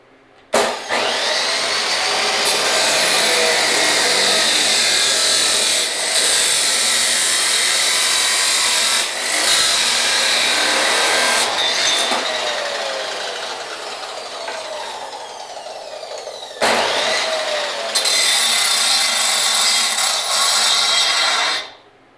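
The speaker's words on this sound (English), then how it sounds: "I cut it on an angle with the cutoff" A cutoff chop saw slicing at an angle through a metal leaf spring slider part, with a loud, sustained, high-pitched grinding whine that dips briefly twice before stopping.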